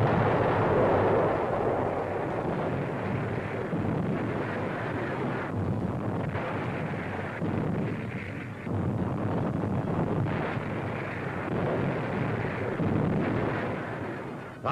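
Wartime artillery pounding enemy gun emplacements on the hills around Cassino, heard as a continuous, dense roar of distant booms and rumbling blasts that blend into one heavy wash of noise.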